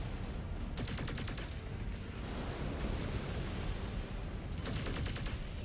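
Mech weapons firing in MechWarrior 5 co-op combat, a dense, continuous roar of gunfire with two bursts of rapid autocannon-like rattling near the start and end, loud and without talk.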